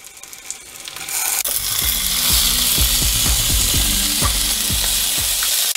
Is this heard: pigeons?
no